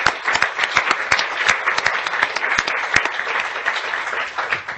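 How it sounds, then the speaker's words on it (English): A room full of people at a lecture claps in sustained, lively applause with no voices. "I think she deserves another round of applause"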